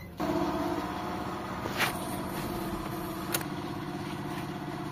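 An engine starts up and runs at a steady idle during an RPM test, a constant mid-pitched hum close by with a couple of faint clicks and no talking.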